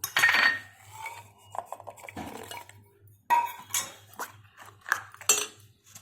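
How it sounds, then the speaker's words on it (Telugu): Jaggery and ghee-fried cashews being stirred into paramannam in a pot, with a spoon scraping and clinking against the metal in a few close, uneven bursts and soft pauses between. "ముందుగా తురుము పక్క పెట్టుకున్న బెల్లం మొత్తం వేసుకుని ఒకసారి కలుపుకుందాం."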